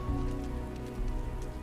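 Steady rain falls outdoors in the video game Starfield, a continuous, even patter with no talking over it.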